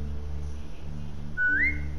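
A single rising whistle to call a dog in The Walking Dead video game, one short clear note that sweeps upward near the end over a steady low background hum.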